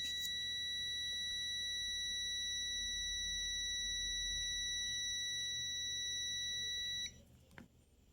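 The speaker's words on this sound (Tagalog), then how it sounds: "push the button again to get a beep" A multimeter's continuity test gives a steady, high-pitched electronic beep continuously for several seconds, then cuts off, followed by a faint click.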